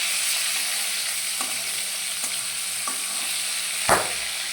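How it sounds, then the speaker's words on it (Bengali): Fish frying in a pan for a home-cooked Bengali lunch, a steady close hiss of sizzling oil throughout with a few soft clicks and one sharper knock near the end, no voices. "এই দেখো মাছগুলো আমি ভেজে নেবো"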